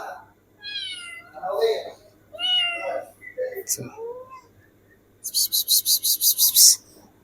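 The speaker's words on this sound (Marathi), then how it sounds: "ही मनी आणि मनीची पिल्ल त्रास देत आहेत" A mother cat and her kittens meowing: several separate, rising and falling mews of different pitches, close and clear, followed by a rapid run of loud, high, buzzing pulses.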